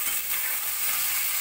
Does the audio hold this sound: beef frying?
yes